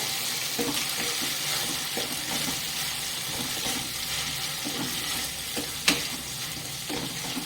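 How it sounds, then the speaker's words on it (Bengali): Goat meat with onions and spices frying in a pan, a continuous moderate sizzle with scraping stir strokes and one sharp clink near the end, no talk. "মশলা দিয়ে ভালো করে কষিয়ে নেবো।"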